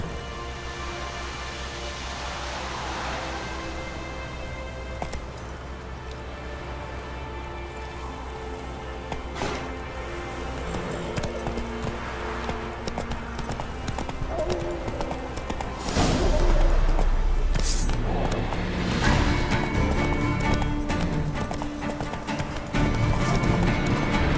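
Horse hooves clip-clopping at a gallop in the video game Witcher 3, a steady rhythmic beat with occasional whinnies, running throughout under game music, with a brief spoken word over it.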